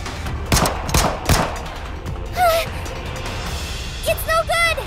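Gunfire at a tentacle in the video game Goddess of Victory: Nikke sounds as a few sharp shots early on, mixed with voices and short whistling, chirping game effects later.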